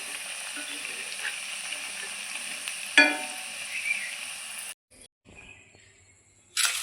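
Thekua dough pieces for Chhath Puja fry in hot oil with a steady, close sizzling hiss. A brief clunk sounds partway through, then the frying cuts off abruptly, with short bursts of sizzle returning at the end.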